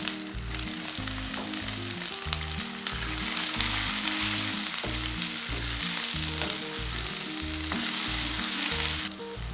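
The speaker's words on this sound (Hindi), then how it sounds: "ताकि अदरक लहसुन का पेस्ट और गोश्त हमारा अच्छे से भून जाए" Ginger garlic paste and mutton fry in a pan for aloo gosht, giving a loud, continuous sizzle with occasional stirring noise, close up.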